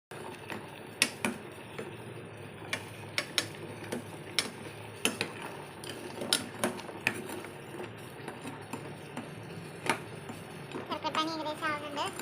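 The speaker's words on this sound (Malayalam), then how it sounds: "ശർക്കര ഇവിടെ തിളച്ച് മറിയുന്നുണ്ട്." Jaggery syrup boiling in a pan on the stove while being stirred: irregular light clinks and scrapes of a utensil against the pan over a soft bubbling bed, with a voice speaking.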